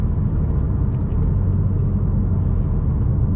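2019 BMW M2 Competition with a manual gearbox, heard from inside as a steady, close, deep engine rumble; separate gear changes are not clearly marked.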